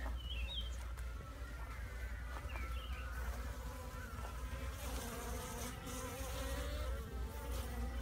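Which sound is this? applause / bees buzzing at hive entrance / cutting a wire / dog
bees buzzing at hive entrance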